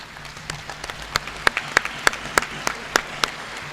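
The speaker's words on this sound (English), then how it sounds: "I would wish all of us to stand and also equally give a round of applause to Dr. Jennifer C. and her team" Audience applause at a Gambian health sector ceremony, sparse individual claps at first building into a steady round of clapping across the room, moderately loud with no talking over it.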